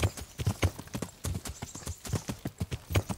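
Horse hooves clip-clop at a steady trotting rhythm while riding in the video game Kingdom Come: Deliverance, a quick train of crisp hoof strikes heard close and alone without talk.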